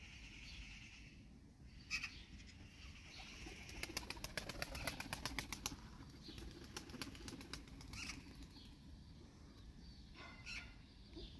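Single pigeon, a novice tumbler flyer, flapping its wings in flight outdoors, rapid clattering wingbeats in bursts around the middle over faint background ambience, fairly close, with no talk.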